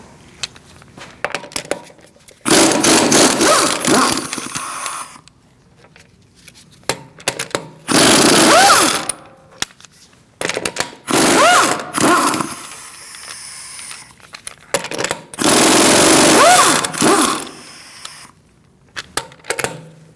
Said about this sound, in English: Using a 17mm socket, we are going to remove our wheel.